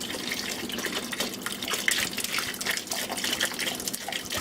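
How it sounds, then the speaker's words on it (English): Water gushes and splashes from a kitchen tap while preparing homemade strawberry soda, a continuous bright rushing stream with irregular splatters, close and moderately loud, no voices. "Don't worry about water splashing, it's just water."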